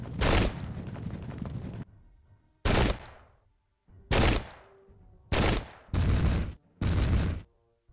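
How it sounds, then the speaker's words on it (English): Musket volleys and cannon fire in the 17th-century warfare game Pike and Shot: six loud, sharp blasts spaced about a second apart, each followed by a decaying rumble, heard alone without talk. "See some cannon fire dealing some casualties"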